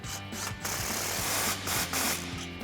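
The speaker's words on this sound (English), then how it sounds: "grab a 15mm socket and tighten that down" A 15mm socket ratchet tightens an aftermarket clamp on a 2024-2025 Toyota Tacoma Flowmaster FlowFX dual exhaust, giving steady, close, rapid clicking in short repeated strokes with no voices.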